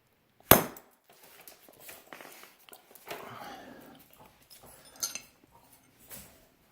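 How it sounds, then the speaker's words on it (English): A single sharp metallic hammer strike on a full-tang knife blank rings out near the start, followed by quiet shop shuffling and a few soft clinks. "And then I take my hammer."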